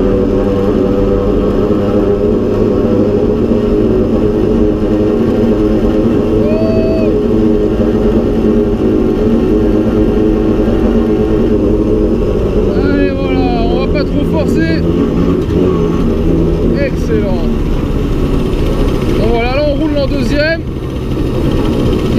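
A 1962 Paloma Vesuvio cyclosport moped engine revs loudly and climbs through its gears, the pitch rising and dropping at each shift, with someone speaking over the motor.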